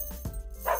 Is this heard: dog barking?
yes